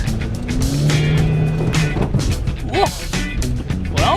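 Car running on ten pounds of candle wax in place of engine oil, driven on a short test drive: loud, steady engine drone with rising and falling revs, a few squeaks and rattles, and voices talking over it.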